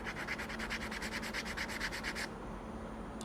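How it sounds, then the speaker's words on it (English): 80-grit sandpaper held against a wooden Christmas ornament spinning on a lathe gives a close, rhythmic rasping that pulses steadily for about two seconds, then stops, leaving the motor's hum. "I'm going to take some 80 grit sandpaper, put it down here on the lathe,"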